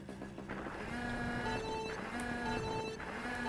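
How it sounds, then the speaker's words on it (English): Phone message notification chimes ringing out in a few short tonal bursts over continuous game music and engine noise during a Mario Kart race. "And I got a text message."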